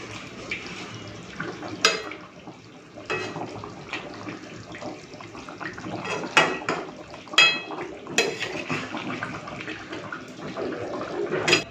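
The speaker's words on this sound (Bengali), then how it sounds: "2 মিনিট ফুটিয়ে নিয়ে নামিয়ে ফেলবো।" A pan of rohu fish curry bubbles on the stove while the cook works nearby, giving a steady watery simmer with scattered utensil clinks and small clatters and no voices.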